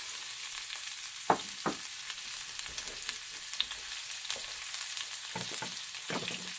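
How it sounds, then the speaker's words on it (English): Onions sauté in oil in a pan, giving a soft, steady sizzle with scattered faint pops and occasional stirring clicks, close but quiet, with no voices. "So I'm going to saute this for a bit, a couple minutes."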